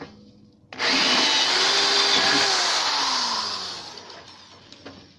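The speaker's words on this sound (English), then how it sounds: "I re-drill this one with a 5/16" A power drill whirs up suddenly and runs steadily for a few seconds, its pitch bogging down slightly as it re-drills a bolt hole with a 5/16 bit on a utility trailer, then spins down with a click.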